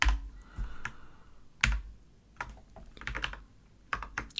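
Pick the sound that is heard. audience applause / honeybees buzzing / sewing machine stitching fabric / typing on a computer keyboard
typing on a computer keyboard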